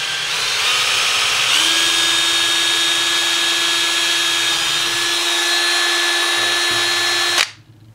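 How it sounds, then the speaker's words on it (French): A power drill bores a hole through a soft lead fishing sinker, a loud steady whine that rises in pitch at about 1.5 seconds and holds until cutting off abruptly near the end, with no talking. "je fais un trou à l'opposé de la fente, hein, donc alors attendez, je vais percer ça comme ça"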